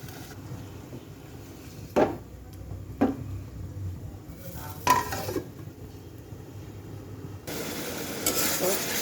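Boiled potatoes stirred and sautéed in spice paste in a pan, with a low sizzle underneath and several sharp scrapes and clanks of a utensil against the pan, ending in a louder stretch of frying.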